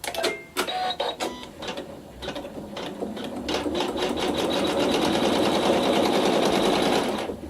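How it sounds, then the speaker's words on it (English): A sewing machine stitches a seam through quilting fabric with prairie points, a fast rapid-fire clatter that starts in short uneven bursts and then settles into a continuous, louder run. "the machine will sew my seam"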